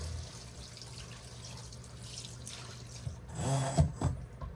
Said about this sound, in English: Just use cold running water.